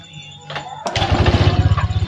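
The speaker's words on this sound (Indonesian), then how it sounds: "Oke, motor langsung berbunyi ya." A Honda Vario 125 scooter engine fires up after a short starter whir, then settles into a loud, close, throbbing idle with a rapid regular pulse.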